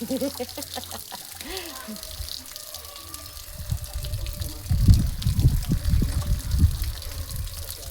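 Water runs and splashes in a shower, a gushing, uneven stream that swells louder in the second half, with a voice heard over it at the start.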